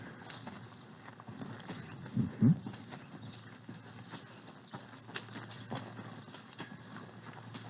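Steady clip-clop of a horse's hooves walking at an even pace on Dunrovin Ranch, fairly close, with a louder double knock partway through.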